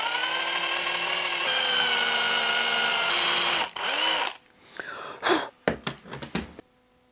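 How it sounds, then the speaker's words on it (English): A power drill with a 3/16 bit bores into a balsa wood lure body held in a vise, a loud steady whine for several seconds that winds down and stops, followed by a few short clicks and handling sounds. "I can just drill straight down and I'll get my angle right"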